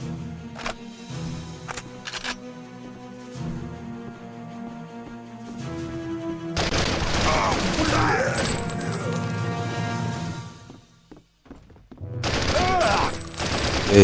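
Gunfire in the video game GEO Police crackles in rapid bursts and dense fusillades, with sharp repeated shots and clattering impacts, sometimes pausing briefly before resuming loudly.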